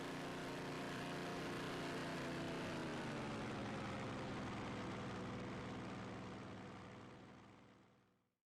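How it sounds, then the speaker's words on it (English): Airplanes flying overhead in the video game Labyrinth of Galleria: a loud, continuous broadband engine roar that holds steady, then fades out smoothly over the last few seconds. "Those planes sure are loud."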